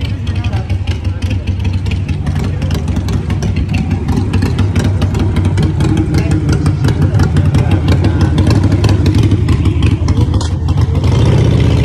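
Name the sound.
motorcycle engine revving and popping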